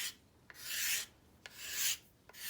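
A knife carves smooth shavings from a large wooden spoon in three rasping strokes, each followed by a brief pause and a light tap. The strokes are close, crisp and fairly quiet, with no voices.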